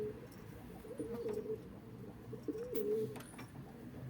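Pigeons cooing inside a coop, two soft drawn-out coos close by over a low background murmur, with faint scattered chirps and rustling.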